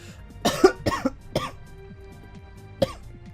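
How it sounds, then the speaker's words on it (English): Several close, harsh coughs in quick succession, then a pause and one more single cough. "Hold on, I got a cough."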